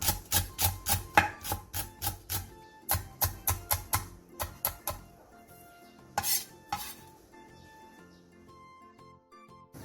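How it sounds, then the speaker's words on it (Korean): Chef's knife finely chopping a halved green onion on a cutting board in a home kitchen, a fast run of crisp, even knife taps in bursts, close and clear, with a few lighter scrapes and pauses between. "대파 3분의 1개를 길게 반으로 가른 뒤 쫑쫑 썰어주세요"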